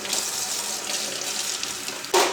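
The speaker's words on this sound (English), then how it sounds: "Now I'm just going to drain it and rinse it with cold water." Cold tap water runs steadily into a kitchen sink as cooked vermicelli noodles are drained and rinsed, a close, even splashing hiss with a brief louder gush at the end.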